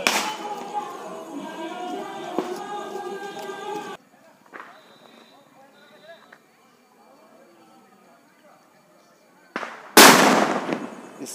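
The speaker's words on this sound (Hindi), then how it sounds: "देखिए पटाखा फोड़ रहा है।" Children set off firecrackers in a village during a Manasha Puja festival, a rough rushing fizz giving way to quiet before one sharp, loud bang bursts out near the end, with faint voices around.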